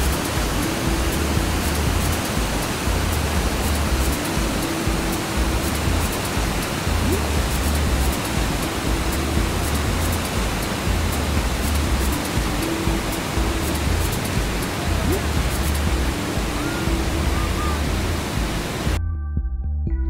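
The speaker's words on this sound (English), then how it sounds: "The Iguazu Falls is a system of 275 waterfalls on the borders of Argentina, Brazil, and Paraguay." The Iguazu Falls, a system of 275 waterfalls on the borders of Argentina, Brazil and Paraguay, give off a loud, continuous roar with no break for nearly twenty seconds before it cuts off abruptly.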